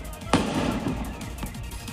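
A refrigerator compressor bursts inside a burning shop, a single sharp bang cutting through a rough, continuous roar of fire and street noise.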